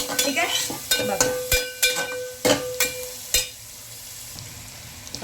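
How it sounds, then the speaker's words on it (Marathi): Chopped onion sizzles in a hot pan while a spoon stirs and scrapes it in a series of sharp strokes, close and moderately loud, the frying hiss continuing faintly after the stirring stops. "ठीक आहे, कांदा बघा, हे बघा, त्या चांगला कांद्याला भाजून घ्यायचा."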